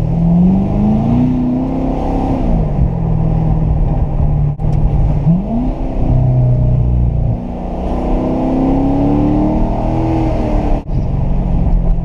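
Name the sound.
car engine heard inside the car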